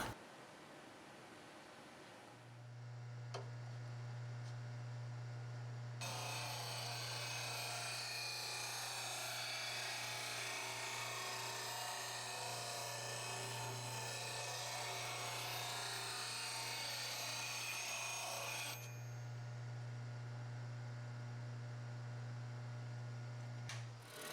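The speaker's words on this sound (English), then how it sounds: "I set the tool rest height so the scraper cut will be at the middle of the blank." A wood lathe hums steadily while a scraper cuts a maple and mahogany box blank, producing a loud, sustained hissing scrape for several seconds that then stops, leaving the motor running alone.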